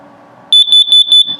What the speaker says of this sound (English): This is your carbon monoxide LP gas detector here.